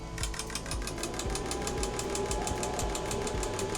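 A Mercedes W124 220E engine idles at 750 rpm during a fuel injector clogging test, giving a quiet, steady mechanical ticking with an even, rapid pulse and no voices.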